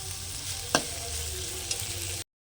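Fish oil being stir-fried in a pan over low heat gives a steady, soft sizzle with a single sharp clack of a spatula partway through, then the sound cuts off abruptly near the end.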